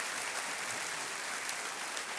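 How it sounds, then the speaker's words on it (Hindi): Studio audience applause at a quiz show, a steady dense wash of clapping that fills the whole moment without pause, with no voices over it. "तालियों के साथ इनका अभिनंदन"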